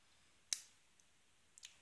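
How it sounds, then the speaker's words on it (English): Faint clicks from a pin being picked in an SPP Matlock 3094 six-pin brass padlock, one sharp click near the start and two softer ones later, close up and alone against a quiet background. "Another clicking pin 5."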